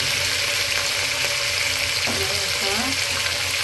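Chicken hits a pan of sautéed onion and garlic for chicken binakol, setting off a loud, steady sizzle with stirring and scraping close by.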